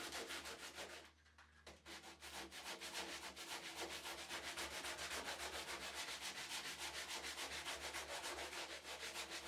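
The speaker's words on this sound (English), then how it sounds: "We're going to use 80 grit sandpaper to get rid of all the high spots." Coarse 80-grit sandpaper rubs by hand over resin-filled wood in steady back-and-forth strokes, a close, quiet rasping rhythm with a brief pause near the start.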